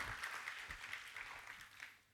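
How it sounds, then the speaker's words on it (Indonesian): Applause from a church youth congregation during a sermon, a steady even wash of many hands clapping at moderate level, fading slightly toward the end. "Kasih tepuk tangan yang terbaik bagi Allah kita."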